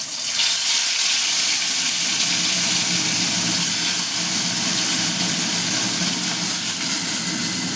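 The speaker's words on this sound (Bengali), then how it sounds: "মাছগুলো দিয়ে দিলাম, মাছগুলো ভাজা করব" Small fish frying in hot oil in a wok give off a loud, steady hiss and sizzle that stays even and close throughout, with no voices.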